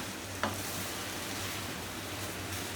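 Minced meat for homemade lasagne browning in a pan, a steady soft sizzle throughout with one brief clink of stirring near the start.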